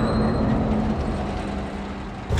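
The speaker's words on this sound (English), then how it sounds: "Spin the turntable, pull trains with webs." Trains being pulled along rail tracks by web in the Spider-Man: Miles Morales game, a steady, loud rolling rumble with a low hum and faint wheel squeal, continuous throughout with a brief jolt at the end.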